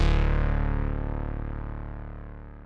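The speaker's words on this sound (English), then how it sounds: "this is called Whirly, and Whirly is just a digital piano" A single sustained note from a digital electric-piano patch called Whirly, loud and rich with harmonics, with a processed, effected tone, decaying slowly over nearly three seconds with no voices.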